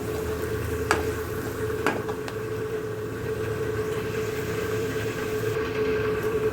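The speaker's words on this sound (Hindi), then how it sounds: "इसको थोड़ा सा भूनेंगे जब तक कि प्याज भी गोल्डन ब्राउन नहीं हो जाता" Onions and Kashmiri red chilli roast with spices in a pan, a steady close sizzle with a few sharp clinks of a utensil against the pan along the way.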